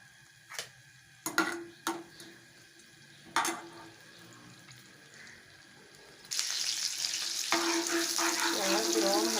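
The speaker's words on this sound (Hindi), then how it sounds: "प्याज ब्राउन हो रहा है।" Chopped onion fries in hot oil for bujia, starting with scattered clinks and stirring knocks, then a loud, steady hiss of sizzling from about the middle onward with faint bubbling crackle.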